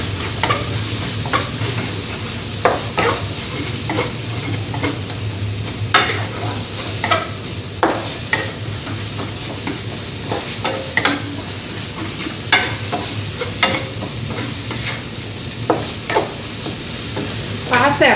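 Minced fermented fish (pla ra sab) with kaffir lime leaves stir-fried in a pan, a constant sizzle broken by repeated scraping spatula strokes at an uneven rhythm, close and loud, no talking.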